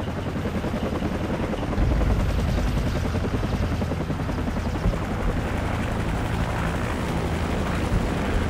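Helicopter in Call of Duty 4: Modern Warfare, a dense, steady rotor and engine roar with thumping low-end chop that stays loud and constant for several seconds, with no talk over it.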